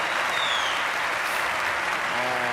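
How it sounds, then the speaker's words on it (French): Steady, dense applause from a live comedy-show audience fills the room at an even level throughout, with faint voices mixed in beneath the clapping. "Applaudissez ma fille, enfin."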